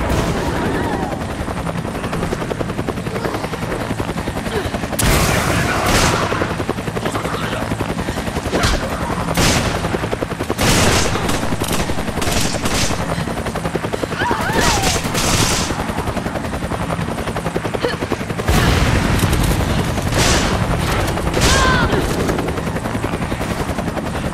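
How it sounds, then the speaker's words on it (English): Repeated bursts of automatic gunfire and explosions crackle through a Resident Evil 5 Versus match on PS3, set over the continuous thrum of a hovering helicopter. "Gunfire!"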